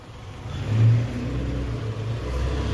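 A 2008 Fountain 35 Lightning boat's engine exhaust revs with a deep, throaty low rumble, swelling once early on and then holding a steady loud drone, with no talking.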